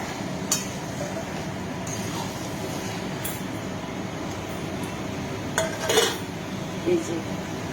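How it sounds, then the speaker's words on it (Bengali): Homemade mango oil pickle going into chicken curry meat in a pot, with clattering spoon and pot clinks and scrapes standing out over steady background noise, a few louder knocks near the end. "এই যে এটা আমার বাড়িতে বানানো আম তেল, এই আচারটা মাংসের সাথে দিয়ে দিলাম।"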